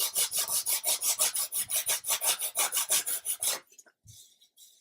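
An emery board sanding a plywood part for a 1/80 scale Endeavour ship model: fast, steady rasping back-and-forth strokes, close and loud for about three and a half seconds, then stopping, with a few faint handling sounds.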